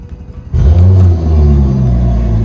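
A 2021 Mercury 200hp V6 four-stroke outboard engine starts up and settles into a loud, steady idle, its close, deep rumble running unbroken after a brief quieter lead-in.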